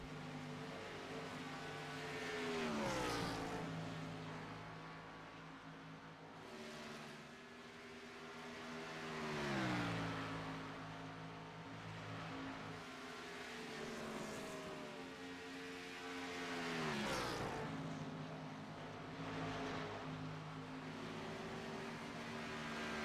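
Race cars, leaders closing on lapped cars, sweep past on an oval track one after another, each engine note rising loud and then dropping away in a Doppler fade, with a steady roar of further cars filling the gaps between passes.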